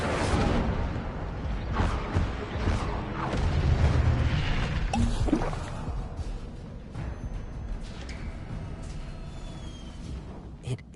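Casting of the Incendio fire spell in the video game Hogwarts Legacy: a loud, booming whoosh of flame in repeated bursts, fading into a quieter rumble.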